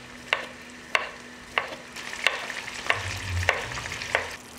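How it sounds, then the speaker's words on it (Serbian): Carrots fry in a pan with a soft, constant sizzle, punctuated by about eight regular, sharp scrapes and taps of a stirring utensil spaced under a second apart. "i pržit ću šargarepu dok ne omekša. Dok pržim šargarepu"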